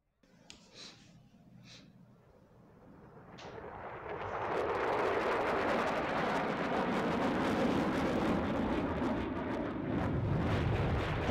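Swiss Air Force live firing at Axalp, a sustained loud roar of jet and firing noise building into a dense, continuous rumble, after a quieter start with a few faint voices.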